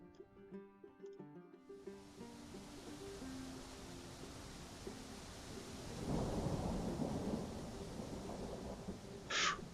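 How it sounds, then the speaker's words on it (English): Thunderstorm in the Civil War strategy game Grand Tactician: steady rain-like rush after a brief musical passage, swelling into a loud rolling thunder rumble near the end, no talk. "We'll be blessed with a storm to slow them down."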